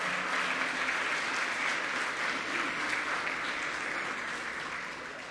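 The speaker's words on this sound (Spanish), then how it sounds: "Dale ese aplauso fuerte al Señor" A church congregation gives loud, sustained applause, a steady wash of clapping that fills the room and fades slightly toward the end.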